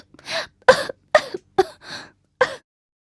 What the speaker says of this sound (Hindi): स्नो वाइट अचानक जाग गई और जोर जोर से खांसने लगी।